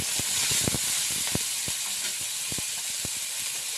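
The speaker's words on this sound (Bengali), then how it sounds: "প্রথমে রসুন ফোড়ন দিয়ে আলুটা দিয়ে দিলাম দেওয়ার পর এবার একটু নাড়াচাড়া করে দিচ্ছি" Potatoes fry in hot oil with a garlic tempering, giving a steady close sizzle with scattered sharp clicks and pops from a spatula stirring them around a pan.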